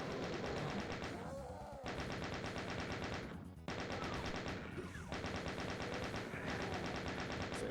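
Rapid automatic gunfire from a chaingunner enemy in Doom II on PC, loud continuous rattling bursts of shots broken by a few brief gaps, close and dominant with no talk.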